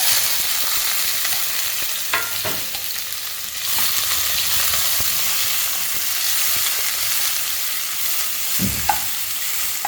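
Bell pepper pieces fry in a pan with very little oil, giving a steady sizzle with occasional stirring scrapes and clatters.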